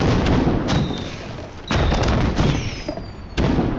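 Firecrackers bursting outdoors during a celebration: a steady wash of crackle broken by several sharp, loud bangs and thuds at irregular intervals, with a faint whistling rocket streak among them.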